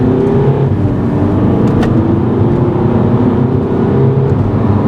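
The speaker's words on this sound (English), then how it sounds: "It's not the fastest car, but it does accelerate very nicely." A 2011 Volkswagen Jetta TDI turbo diesel accelerating, its engine a steady, fairly loud drone that rises gently in pitch and holds throughout, with no voices over it.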